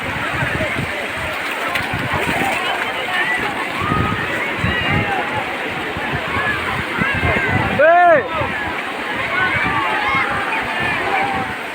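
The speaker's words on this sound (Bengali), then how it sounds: "বকখালিতে বে অফ বেঙ্গলে জোয়ার আসছে, ধীরে ধীরে বড় বড় ঢেউ তৈরি হচ্ছে।" Waves of the Bay of Bengal roll in at Bakkhali beach as the tide rises, with crowds bathing. The surf is a loud, continuous rushing slosh with a steady wash of water and voices mixed in.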